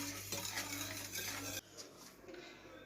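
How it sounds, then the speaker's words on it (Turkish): A utensil stirs in a pot on a lit stovetop, with soft scraping and clinking against the metal, quiet and close, and the tone changes partway through. "Öyle bir karıştırayım."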